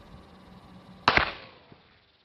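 A single sharp sniper rifle shot fired downrange on a Marine Corps scout sniper course, a crisp crack with a brief decaying tail against quiet background.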